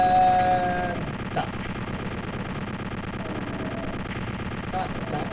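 A chaingun fires in Doom 2 on The Vast Silence map 04, with scattered sharp gun reports over a dense, noisy game soundscape that stays at a fairly even moderate level.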